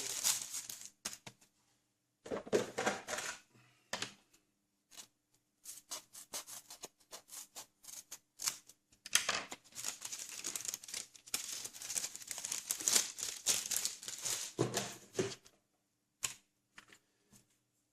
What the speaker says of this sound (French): de la mousse Tamiya P2000. Voilà. On va couper un petit morceau.